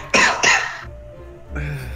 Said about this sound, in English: you have to cough. I can do that.